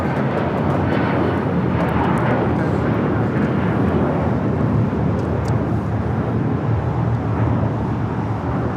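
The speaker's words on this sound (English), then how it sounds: "This is United Airlines 1069 taking off to Chicago on the 757-300" A United Airlines Boeing 757-300 jet takes off from Los Angeles airport, a loud, steady engine roar that holds at full power the whole time with no letup.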